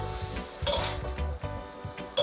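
Young coconut shoots and shrimp are stir-fried in a pan, with a loud close sizzle and quick scraping, tossing strokes that come in bursts.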